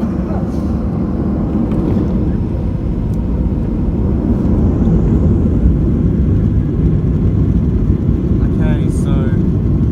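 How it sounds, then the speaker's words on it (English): Ryanair Boeing 737-8AS jet engines at takeoff thrust on the runway, a loud, dense low roar that holds steady throughout as heard from inside the cabin, with a brief spoken voice over it. "Are on the runway. And we're increasing the thrust."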